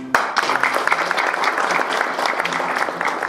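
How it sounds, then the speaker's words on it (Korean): A crowd at a Korea University alumni journalists' anniversary and awards ceremony gives dense, sustained applause that begins abruptly and holds steady and loud throughout. "인사 한번 박수 한번"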